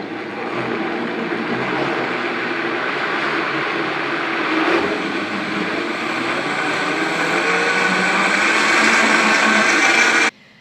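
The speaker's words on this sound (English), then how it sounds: "my blender is plugged in, and we're gonna mix it up" A plugged-in blender whirring steadily while mixing vegan chocolate milk, a loud continuous motor drone that builds slightly before cutting off abruptly at the end.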